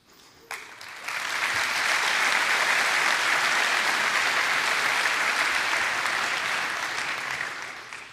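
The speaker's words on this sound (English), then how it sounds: "let's applaud to the last year Kotlin grants winners" A conference keynote audience at KotlinConf bursts into loud, broad applause after a brief quiet start, sustained for several seconds before gradually tapering off near the end.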